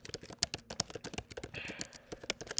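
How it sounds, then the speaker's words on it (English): Rapid clicks and taps from a computer mouse and keyboard at a desk, close and crisp, in an irregular quick rhythm with faint noise between. "I know you might hear my mouse clicking"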